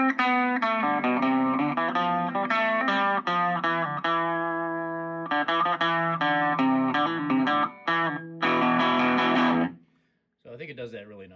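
Clean electric guitar notes and chords through a DIY EF80 all-tube mini practice amp with the guitar volume turned down slightly, played in a steady, bright pattern with slight shimmer, ringing out for several seconds before stopping.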